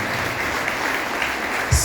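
A church congregation breaks into brief, full applause during a worship service, a dense burst of many hands clapping together.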